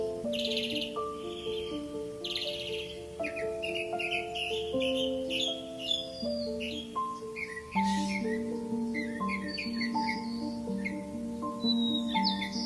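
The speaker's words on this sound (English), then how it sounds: "birds flit between the leaves with cautious grace" Birds chirp and call repeatedly in a mangrove forest in Cambodia over a steady tonal musical backdrop, the short bright calls scattered through the whole stretch.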